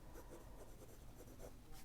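A fountain pen nib scratches steadily across paper, a soft, close, continuous writing sound with faint rhythmic strokes.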